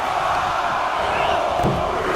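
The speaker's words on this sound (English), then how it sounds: "The crowd is counting it down." Arena crowd in WWE 2K24 counting down during a Men's War Games match, a steady dense roar of many voices filling the whole stretch without letup.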